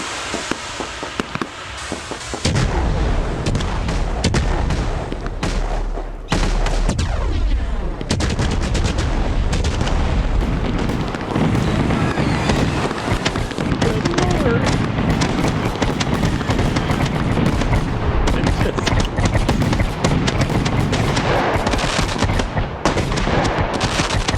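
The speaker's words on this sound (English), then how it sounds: "Destroying Cody's fireworks store." Fireworks going off inside a fireworks store in a video game: a long, loud, chaotic barrage of rapid crackling bangs, whistles and booms firing almost continuously and overlapping, with no voices.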